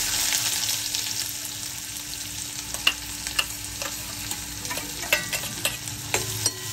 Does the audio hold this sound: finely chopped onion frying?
yes